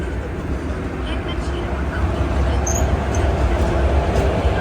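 A Mangaluru Express train arriving at a station platform, a loud continuous rumble of rolling wheels and carriages with faint crowd noise, building steadily throughout.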